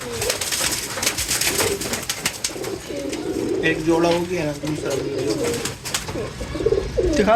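Pigeons coo repeatedly inside loft coop boxes, their soft rolling calls close and steady beneath someone talking over them throughout.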